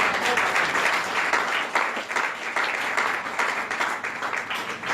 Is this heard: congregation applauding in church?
yes